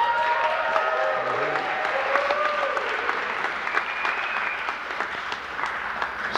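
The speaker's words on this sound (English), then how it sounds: "Let's give them a round of applause." Steady round of applause from a theater audience at a film-project screening in the Music Box Theater, continuous clapping with faint voices and a whoop or two mixed in.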